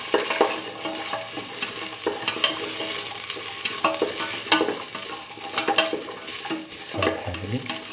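A stew with ginger and salt frying in a pan, stirred with steady scraping and a constant sizzle, punctuated by occasional taps of the utensil against the pan.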